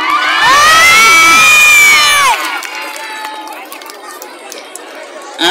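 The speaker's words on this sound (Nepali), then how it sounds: "आहा यो ताली रे त पुगेन" A festival crowd at Lekhnath Mahotsav 2080 lets out a loud, sustained whooping cheer, then settles into a busy wash of shouting and chatter close by.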